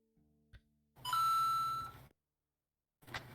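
A short electronic alert tone rings out from a phone, a clear sustained beep after a faint click, then quiet, with one more brief sound at the end.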